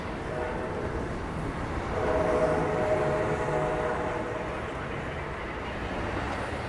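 An Amtrak California Zephyr passenger train (Train #5) rumbles steadily nearby arriving at Martinez station, a low continuous roll with a faint tonal whine swelling briefly in the middle.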